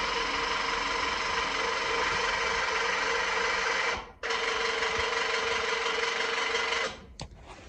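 The electric hitch lift mechanism on a Thiessen/Tilmor 520e cultivating tractor whirs loudly and steadily, cuts out briefly, resumes, then stops with a short final burst.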